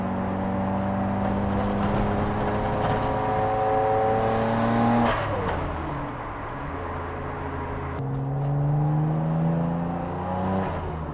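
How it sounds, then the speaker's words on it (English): Nissan GT-R R33 engine and turbo as the throttle lifts: a loud, steady engine drone with rising and falling whining turbo tones, easing off and building again with little backfire. "You can hear that turbo, wow."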